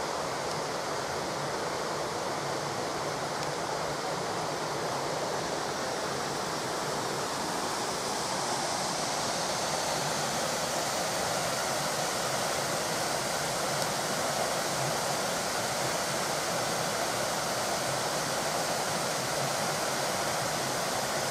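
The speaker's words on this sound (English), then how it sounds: "So there's the waterfall of the Badger Dingle." Waterfall with clear water in Badger Dingle, Shropshire, a steady broadband rush that holds constant from start to finish with no voices over it.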